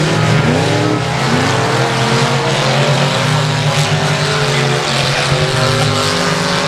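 Sports mod race cars roar around the dirt oval at Texarkana 67 Speedway, a loud continuous blend of several engines revving and droning close by with no break in the din.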